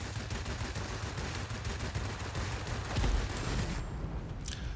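Rapid, continuous 20mm cannon fire from a Spitfire V in World of Warplanes rattles in a dense stream under a constant engine drone, ending abruptly near the close.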